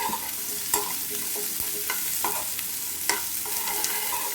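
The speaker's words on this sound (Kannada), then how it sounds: "ಆ ಥರ ಫ್ರೈ ಮಾಡ್ತೀನಿ" Small onions frying in a pan, a steady sizzle under repeated scraping stirs of a spatula, close and continuous.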